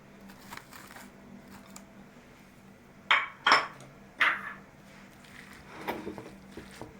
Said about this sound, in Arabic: نخلطو كلشي